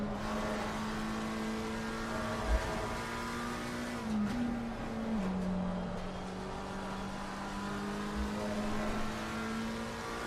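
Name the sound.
race cars driving during a race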